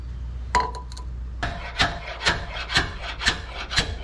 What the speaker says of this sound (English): We'll go ahead and try to slide this thing up out now